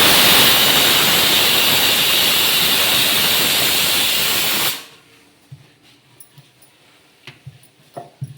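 Loud continuous hiss of steam blasting from a pressure cooker whistle in a village kitchen, steady and close for several seconds before cutting off abruptly, followed by faint scattered clinks and small knocks.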